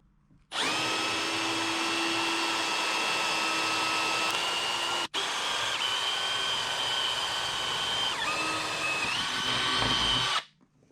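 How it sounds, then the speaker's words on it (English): A power drill whines steadily while boring holes through thick material for a heavy-duty bass boat graph mount, running loud and continuous in two long stretches split by a brief stop, with the pitch dipping slightly under load near the end. "I'll start with a smaller drill bit, then I'll go to the 1/4 inch."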